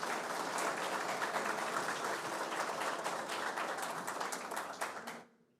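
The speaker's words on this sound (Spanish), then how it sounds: "el general Polanco Salvador, por quien pido un aplauso." A large audience applauds a general named at a democracy tribute event, a dense steady roar of clapping that holds for about five seconds, then quickly fades out.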